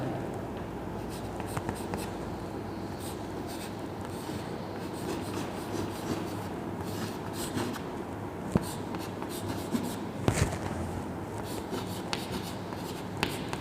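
Chalk or marker writes steadily across a classroom board during a physics lesson on lens power, a continuous soft scraping and rubbing over a constant background hum, with no voices.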